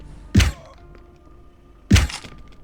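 Two heavy thuds of headshot kills in the stealth video game Death To Spies, spaced about a second and a half apart, each a loud dull impact standing alone over a faint background.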